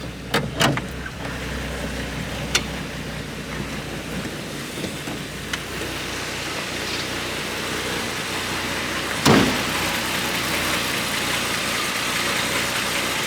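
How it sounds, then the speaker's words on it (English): A restored 1941 Chevrolet Special Deluxe engine idles steadily, a low even rumble holding throughout with a few sharp clicks and knocks near the start and one louder thump partway through. "Really nice sounding engine."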